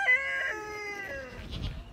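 A backyard chicken calling near a trash-can grain feeder: one drawn-out, tonal squawk, fairly faint, followed by a few low scuffling noises.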